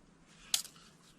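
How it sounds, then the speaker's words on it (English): A single short snip of scissors cutting off excess yarn at a crochet shawl, a crisp quiet click-snip standing alone against a soft, near-silent room. "I just do a little bow and cut off any excess."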